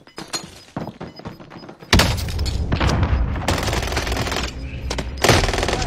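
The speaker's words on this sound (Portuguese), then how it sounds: "Ah, sniper atirando em mim." Gunfire in a first-person shooter video game, with a sniper firing at the player: a loud burst of rapid shots and impacts kicks in after a quieter opening and keeps going, with another surge near the end.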